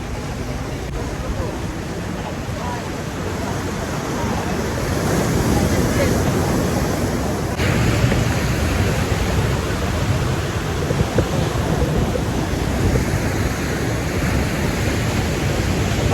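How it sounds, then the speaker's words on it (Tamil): Ocean waves surge against the shore at Tanah Lot temple in Bali, a continuous loud rushing surf with wind noise on the microphone and voices faintly mixed in. "அலைகள் எவ்வளோ அலைகளாக இருக்கு பாருங்க"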